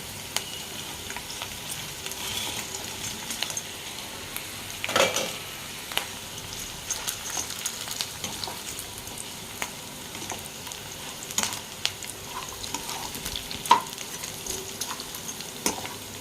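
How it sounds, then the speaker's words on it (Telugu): Cauliflower florets fry in a pan for gobi fried rice, a soft continuous sizzle broken by occasional spatula scrapes and clinks against the pan, close and alone. "ఇప్పుడు దీంట్లో మన గోబీ వేసుకుందాము."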